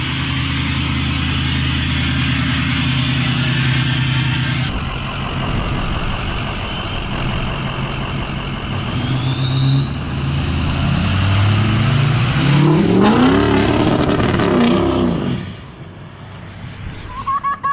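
A 6.0 Powerstroke diesel truck engine, set up for jet mode, revs loud and close against its rev limiter, with a rising turbo-like whistle and a roaring, pulsing drone that swells and eases; no talk.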